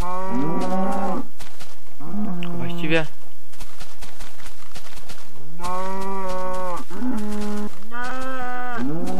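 Cows in the Minecraft video game moo repeatedly, with several loud, drawn-out lowing calls in quick succession, some overlapping, close and prominent throughout.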